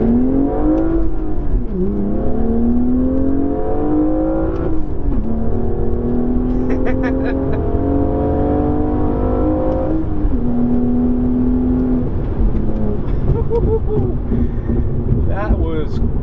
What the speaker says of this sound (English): I'm gonna give you guys a little test of just the acceleration of this car.